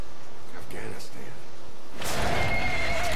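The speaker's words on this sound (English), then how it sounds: "I'm gonna stay on the horse." A horse in Metal Gear Solid V neighs loudly in a long whinny, with galloping hoofbeats and game sounds around it and a voice talking earlier.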